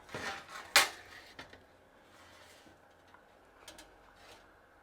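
A sharp clank and clatter of a dish of boiling dipping sauce being taken from a countertop air oven, followed by a few lighter knocks and shuffling, close by with a faint background hum.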